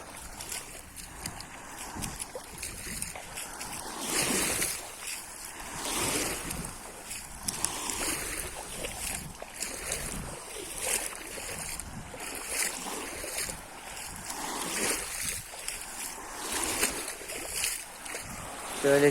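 Steady wash of sea waves and wind rolling against a rocky shore, broad and continuous with gusty microphone rumble, no voices.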